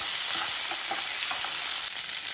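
Crushed ivy gourd is stir-fried for a mint masala palya, giving a dense, even sizzle in the pan with faint stirring scrapes mixed through it, close and steady with no talk.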